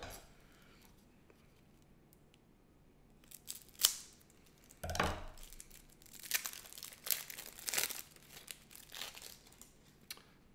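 World of Warcraft board game card packs being opened, with crinkling wrapper plastic, sharp tearing rips and rustling card handling in bursts, close and fairly quiet between the louder tears.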